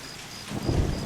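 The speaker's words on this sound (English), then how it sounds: "Oh, it's raining again." Rain and a rumble of thunder in the zoo-building video game Zoo Tycoon, a steady wash of rainfall that swells into a louder low roll in the second half, with no talking.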